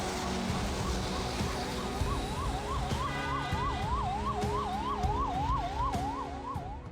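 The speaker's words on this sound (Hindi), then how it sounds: "143 सेकंड पूरे एम्बुलेंस रेड लाइट पर खड़ी रही, हूटर बजता रहा" An ambulance siren wails in a rapid, continuous up-and-down pattern while the vehicle sits stuck at a red light, loud and close over steady traffic noise.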